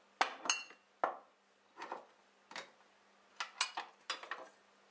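Glass jars clink and knock against each other and a hard counter while apple pie filling is prepared in a home kitchen, about eight separate close, fairly quiet taps and rattles with short pauses between them.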